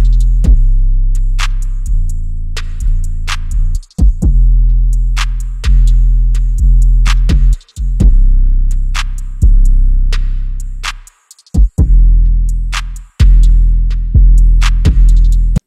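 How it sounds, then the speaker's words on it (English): A full drum pattern plays alone: two layered 808 bass lines booming underneath crisp kicks, snappy hits and ticking hi-hats in a steady hip-hop groove, with brief drop-outs before the beat returns. "basically all the drums together sound like this."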